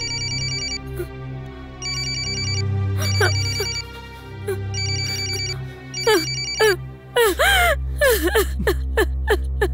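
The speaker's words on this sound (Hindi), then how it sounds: "रवि ने फिर से फोन किया है।" A phone ringtone plays in repeated bursts with pauses between, fairly loud, followed by a few abrupt gasping and whimpering vocal sounds.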